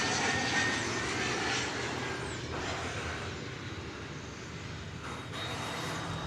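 A fixed-wing airplane taxiing under its own power at DFW airport, its engine a steady, fairly loud broadband roar that holds throughout with no voices.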